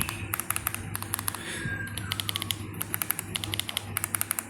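Typing on custom 3D printed keycaps makes quick, fairly quiet, higher-pitched clicks and taps in irregular bursts over a low background hum.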